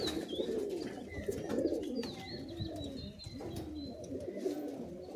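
Giribaz pigeons coo steadily at a breeder's home loft as pairs are matched, their low, overlapping calls filling the whole stretch, with a few higher chirps from other birds threaded above.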